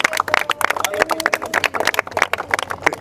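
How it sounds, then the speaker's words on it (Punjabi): An audience claps hands at an indoor gathering, a dense burst of quick, sharp claps for about three seconds, loud and close. "ਫਿਰ ਤਾੜੀਆਂ ਮਾਰੋ ਇੱਕ ਵਾਰੀ"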